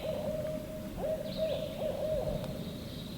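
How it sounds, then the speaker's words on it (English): An owl hoots repeatedly at night, a steady tonal call recurring several times over a dull low rumble, fairly faint and distant with no talking. "Maybe an owl?"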